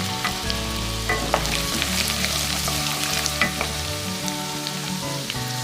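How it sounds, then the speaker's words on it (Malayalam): Chopped ginger sautéing in hot oil in a pan for fish pickle, a steady close sizzle with scattered crackles and pops throughout, no voices. "കുറച്ച് സമയം വഴറ്റിയതിന് ശേഷം അരിഞ്ഞു വെച്ച ഇഞ്ചി ഇതിലേക്ക് ഇടുക"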